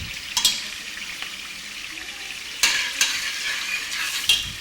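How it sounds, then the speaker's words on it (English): Blended ginger and onions being stirred into a pot while cooking beef jollof rice in Ghana, a soft steady sizzle with a few sharp spoon scrapes and knocks against the pot, close and unhurried. "The blended ginger is added and stirred into the pot."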